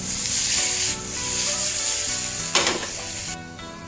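Omurice ingredients seasoned with salt and pepper fry in a pan over medium heat while being flipped and stirred, giving a steady close sizzle with brief surges as the food is moved.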